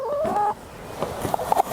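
Sussex chickens cluck near a newly built farm fence: a drawn-out hen call at the start, then scattered short clucks and soft scratching sounds close by, with no talk.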